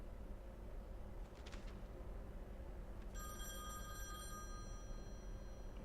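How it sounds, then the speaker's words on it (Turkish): A telephone rings in the video game The Wolf Among Us, a bright electronic ring that starts partway through and holds for about a second over a dense, steady background rumble. "Aha telefon çalıyor."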